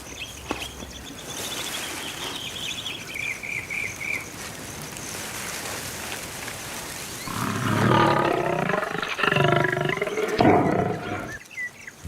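A lioness roars a warning in the wild: a loud, close, rumbling growl builds and swells in the second half over a steady backdrop of chirping crickets and insects.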